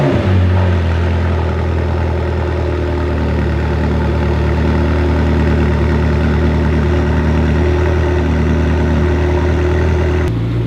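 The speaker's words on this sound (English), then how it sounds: "Let's get you guys a cold start." Race car engine on a cold start, settling into a loud, steady, deep idle close by with a lumpy low rumble that runs unbroken throughout, ending in a short sharp blip at the close.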